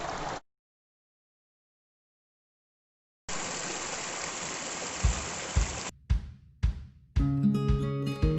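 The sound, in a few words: river flowing near Semeru, Supiturang village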